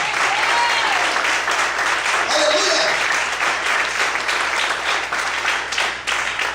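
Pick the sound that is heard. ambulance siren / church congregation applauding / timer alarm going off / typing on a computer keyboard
church congregation applauding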